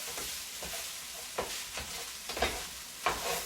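Half a cup of almonds frying in sesame seed oil in a pan, giving a continuous close sizzle with a few brief louder crackles and stirring bursts.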